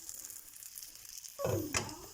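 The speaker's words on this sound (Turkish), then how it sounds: "Diğer tarafını da kızartalım" Soft sizzling of lavash and eggs in a hot pan, quiet at first, then a sudden louder crackle of frying as they are pressed or turned.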